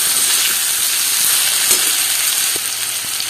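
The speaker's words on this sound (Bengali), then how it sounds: "মশলা আর কচুর লতিটাকে ভালোভাবে কষিয়ে নেব।" Boiled taro stolons frying with spices and tamarind in a pan, a loud, dense close sizzle with hissing steam and occasional stirring knocks, steady throughout without speech.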